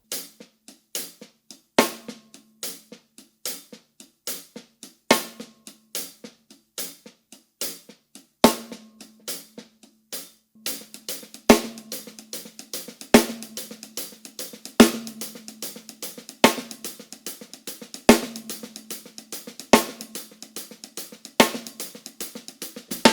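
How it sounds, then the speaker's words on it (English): Slow shuffle on a drum kit: sharp rim shots land at spaced intervals with very quiet ghost notes on the snare between them, played carefully and evenly in a dry, close sound with no talking. "you're going to do that with rim shots followed by ghost notes and control it all very carefully"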